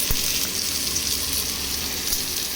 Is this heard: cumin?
yes